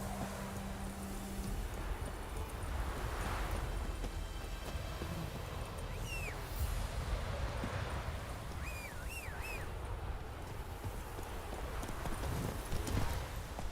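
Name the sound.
horse Roach trotting, hooves clip-clopping, from video game The Witcher 3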